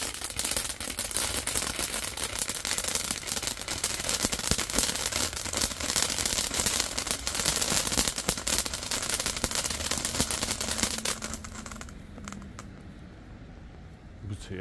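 A firework fountain burns in steady dense crackling and hissing for about eleven seconds, loud and close, then dies down to faint residual fizzing.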